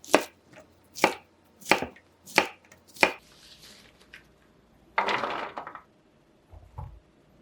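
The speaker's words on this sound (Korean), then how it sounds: "애호박은 길이 방향으로 슬라이스 하세요. 막대 모양으로 잘라준 다음 깍둑 썰기 해줄게요." A kitchen knife dices zucchini on a cutting board in five sharp, evenly spaced chops, then a brief scraping rustle and a soft low thud follow, close up with no talking.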